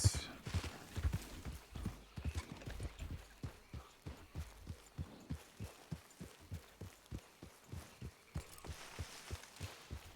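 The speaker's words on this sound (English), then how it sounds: "What's wrong, horse? I heard you nicker a little there." Horse in the Red Dead Redemption 2 video game walking, its hooves thudding in a steady, even rhythm throughout, with faint background ambience; no clear nicker stands out.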